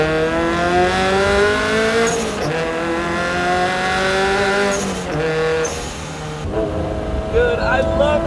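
A turbocharged Subaru BRZ with a new exhaust pulls hard in second gear, its loud, droning engine note climbing steadily in pitch, with a brief shift-like dip and turbo whooshes near the end.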